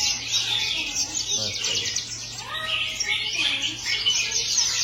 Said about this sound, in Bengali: ছোট ছোট পাখি, পুরা দোকান একদম ভরে রাখছে আমরা।